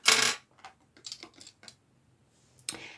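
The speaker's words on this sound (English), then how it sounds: "I will live shuffle some of the cards here." Tarot cards shuffled by hand: a loud riffling burst at the start, then several short soft flicks and taps, and a final riffle near the end, close up with no talking.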